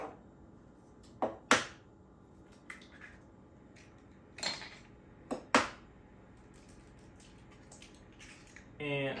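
Eggs cracked into a mixing bowl for mini loaf batter: a few sharp, close clicks and taps against the rim at irregular moments, with soft kitchen handling noise between them and no talking.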